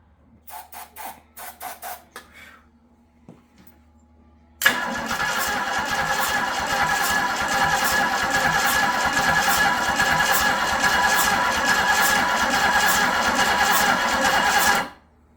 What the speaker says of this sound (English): we should be ready to fire it up and see if it starts